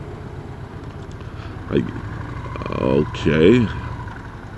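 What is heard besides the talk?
motorcycle engine idling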